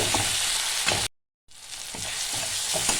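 Loud, steady frying sizzle of medium-sized chopped tomatoes in a pan, broken by a brief silent gap midway, with faint stirring taps.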